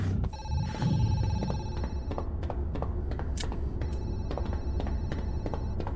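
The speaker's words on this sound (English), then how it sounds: "Got a phone call?" In the horror game Zoochosis, a telephone bell rings in two long trilling bursts with a pause between, clear over low ambient rumble and no speech.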